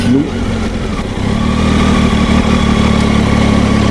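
A 2019 Triumph Tiger 800 XR, the A2 version, rumbles steadily under the rider at close range, its engine note rising slightly as it pulls along on the road.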